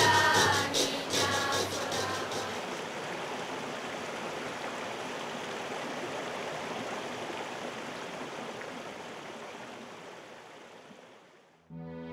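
A murmuring stream runs through the misty, moss- and fern-covered laurel forest of Garajonay on La Gomera, a steady close rush of water that holds evenly for about twelve seconds before cutting off abruptly.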